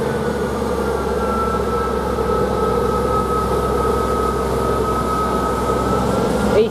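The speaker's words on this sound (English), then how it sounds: "Now this train is just now departing." The late-running Liverpool Lime Street to Norwich train pulls out of Ely station with a loud, steady engine drone and a faint high whine held throughout, heard close by.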